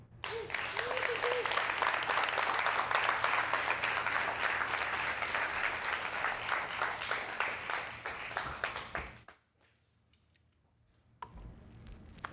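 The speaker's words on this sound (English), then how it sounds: "Let's give him another round of applause" Audience applause after a presentation: sustained, dense clapping from a crowd for about nine seconds, then it stops abruptly into near silence before faint room sound returns.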